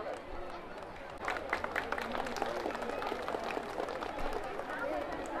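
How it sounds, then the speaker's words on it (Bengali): An audience at an award and cultural ceremony in Kishoreganj claps to welcome guests, a soft, dense patter of many hands starting after a moment of murmuring and continuing steadily at a distance. "সবাই করতালি দিয়ে অভিনন্দন জানাই"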